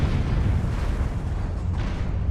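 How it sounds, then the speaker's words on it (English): An isobutane vapor cloud ignites at a refinery, rendered as a deep, heavy boom that rolls on as a loud low rumble without any clear break. "The vapor cloud likely found an energized welding machine roughly 70 feet away from the initial"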